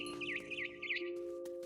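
Bird chirping in the video game What Remains of Edith Finch, a quick run of three or four bright warbling chirps, then quiet, faint over a low steady hum.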